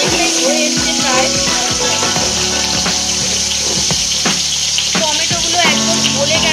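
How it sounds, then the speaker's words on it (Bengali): Spice paste with melted tomatoes fries in oil for a Bengali fish curry, giving a steady, close, loud sizzle with bubbling and spattering throughout. "তোমরা এখানে দেখো মাছের ঝোলের জন্য যে মশলাটা আমরা কষাচ্ছি সেটা কতটা কষে গেছে"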